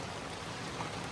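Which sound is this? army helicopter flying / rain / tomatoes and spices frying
rain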